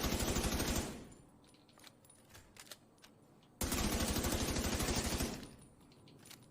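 Assault rifle gunfire in The Division 2, two sustained full-auto bursts of rapid, loud shots, each lasting about a second or more, separated by a quieter gap with faint game sounds.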